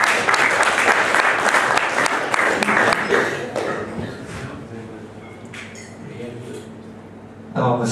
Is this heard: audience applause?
yes